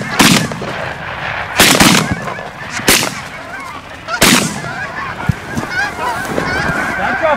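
Loud shotgun blasts on a northern Canadian duck hunt, about four sharp reports spread unevenly over several seconds, with geese or ducks honking and calling between and after the shots.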